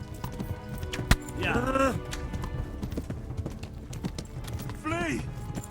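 Horse hooves clip-clop at a run in the video game Kingdom Come: Deliverance, a steady rhythmic patter with a couple of whinnies, under a voice.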